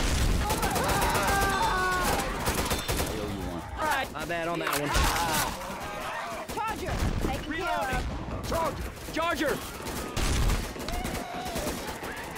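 Rapid bursts of gunfire from the video game Left 4 Dead 2 crackle loudly and almost nonstop, mixed with game effects, while players talk excitedly over the shooting.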